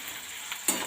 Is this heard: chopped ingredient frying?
yes